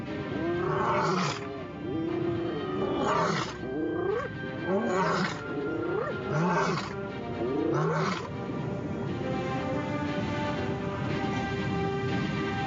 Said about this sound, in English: The lion grunts in a bid to impress them with his authority.